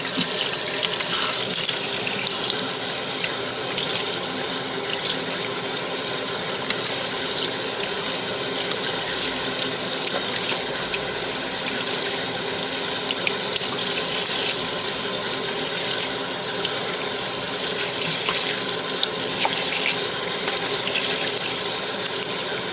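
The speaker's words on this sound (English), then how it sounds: "I just want to rinse the dye off of it." Tap water runs steadily into a sink to rinse dye off a stainless steel pan, a constant loud hissing splash without pause and no talk.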